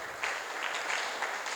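An audience at a university scholar investment challenge event applauds the guest of honour, a dense, even patter of many hands clapping at once, steady and fairly distant throughout.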